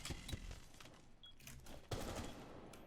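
Shotgun blasts in the tactical shooter Rainbow Six Siege, heard as sharp gunfire reports amid other game noise, with a louder burst near the end.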